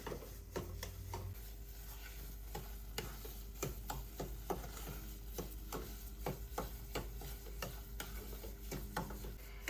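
Semolina roasting in ghee for Gujarati ghughara, a Diwali sweet, is stirred with steady scraping strokes against the pan over a soft, continuous sizzle, close and alone.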